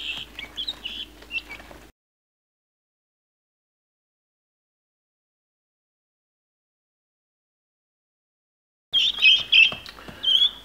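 Day-old baby guinea fowl keets chirp in high, rapid peeps, a busy cluster at the start, then silence for several seconds before the brood resumes its shrill chirping close by.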